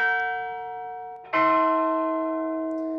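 A large bell in the Holy Trinity Cathedral tower in San Francisco rings with a long humming tone, then a second bell is struck loudly and close, its rich harmonic ring slowly decaying.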